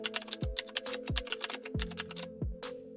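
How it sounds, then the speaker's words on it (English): Rapid, steady clicking of fingers typing on a computer keyboard, close and fairly quiet, with a musical backing running underneath. "Type your text."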